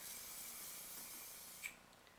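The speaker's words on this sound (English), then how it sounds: "Now I'm going to spray it on" A continuous close hiss of aerosol hair spray lasting about two seconds, ending abruptly with a small click.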